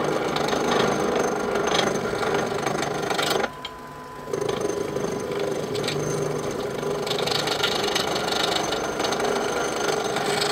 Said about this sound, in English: I'm going to take a 3/4 inch roughing gouge and I'm going to turn this so that it's cylindrical and perfectly flat and smooth.